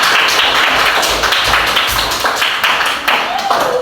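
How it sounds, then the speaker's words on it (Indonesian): A classroom of students claps for a classmate, a brisk, dense patter of many hands, loud and close, fading slightly toward the end, with some voices mixed in. "Nah, benar, tepukan untuk Rasen."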